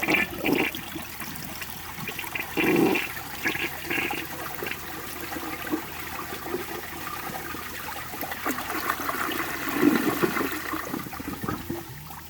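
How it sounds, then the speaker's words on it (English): A toilet without a flapper flushes with a steady rush of running water throughout, the flow surging slightly in places, and no talk over it. "Unfortunately, I don't have a flapper for this one, so I apologize if the flush is a little wonky."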